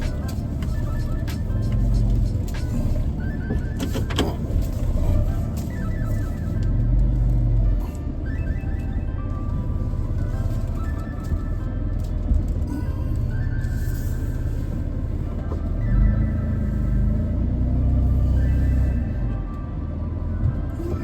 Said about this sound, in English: Back into the driveway.